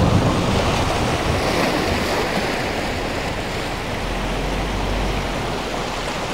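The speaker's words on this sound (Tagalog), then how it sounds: "Mapayapa ang dagat ngayon, karagatan." Calm sea waves washing along the coastline at Malagundi in Lobo near Malabrigo Lighthouse, a loud, steady hiss of surf blended with wind buffeting the microphone and no voices.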